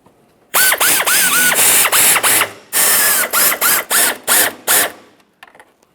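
Ratchet snugging up fog lamp mounting bolts on a 2010-2013 Kia Forte Koup, a close, loud run of rapid clicking bursts in about ten separate strokes, with short pauses between them.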